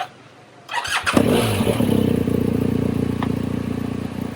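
A motorcycle engine starts after a quiet pause, cranking with a clattering catch and then settling into a loud, steady idle close by, with no talk.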